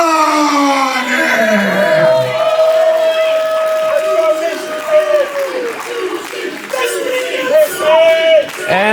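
A Brooklyn crowd at a women's wrestling championship match cheers and shouts in a big arena, with a loud, sustained roar of many voices for the whole stretch.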